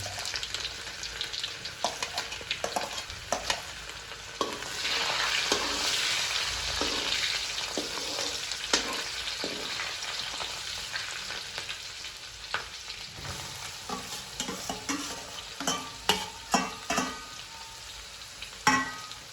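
Garlic and onion fry in hot oil with asafoetida, mustard seeds and cumin in a Gujarati tiffin kitchen in Modasa. A continuous close sizzle runs throughout, broken by frequent clicks and scrapes of stirring that grow sharper toward the end.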